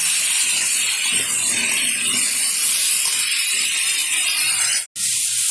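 Pumpkin curry vegetables being stirred in hot oil in a pan, a steady loud sizzle and hiss that runs throughout, briefly cut off near the end before resuming.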